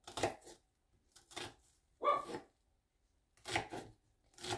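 A knife slices an onion into half rings on a board. Five separate, crisp cutting strokes come close and loud, with short silent gaps between them.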